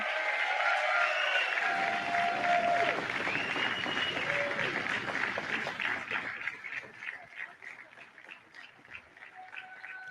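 A crowd at a live Trump tariff speech cheers and claps loudly, with whoops and shouts riding over dense applause that gradually thins into scattered clapping.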